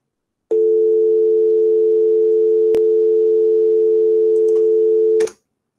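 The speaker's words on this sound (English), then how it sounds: "it was just a standard dial tone" A standard telephone dial tone generated in software and played through a computer's speakers, a single steady unbroken tone lasting about five seconds, loud and alone, with brief clicks at its start and end.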